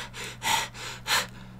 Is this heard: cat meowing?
no